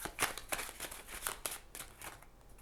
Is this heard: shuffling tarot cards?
yes